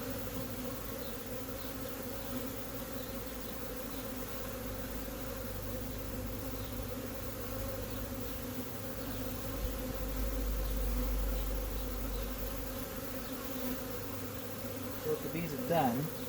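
Honeybees buzz in a dense, continuous hum during an open beehive inspection, close and steady throughout, with a brief faint voice near the end.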